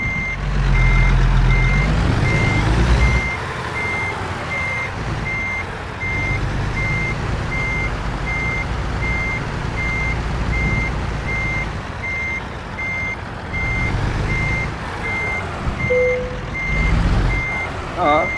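A heavily loaded truck in American Truck Simulator, on New Mexico roads, backs up with a steady, evenly spaced reversing beep over a loud diesel engine rumble that swells and eases, with a faint voice at times.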